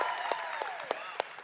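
Steady applause from an audience at a speaker event, fairly quiet and distant, with a few sharper claps standing out over a continuous patter and a hint of crowd voices.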